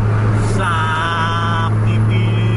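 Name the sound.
Scania bus engine during bus race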